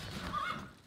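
A horse whinnies in the Stronghold Crusader video game, a short, fairly quiet neigh lasting under a second, standing alone without talk.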